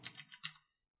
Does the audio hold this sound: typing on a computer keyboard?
yes